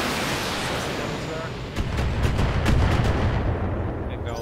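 A mech weapon firing in the turn-based game Battletech, a heavy booming volley rumbling over steady background noise, with a voice faintly present underneath.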